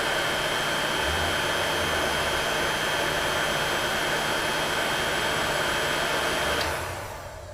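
A heat gun blows a steady, loud, airy roar onto a painted Trokar Pro swim jig and keeps running without a break until it fades at the very end.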